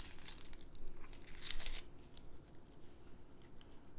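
A knife cutting off an onion's stem end, a few close crisp crunching slices with faint crinkling, quiet and without talk.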